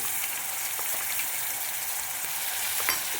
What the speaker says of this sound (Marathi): यानंतर आपले हे मसाले, याला आपण आता छानपैकी परतून घेऊया।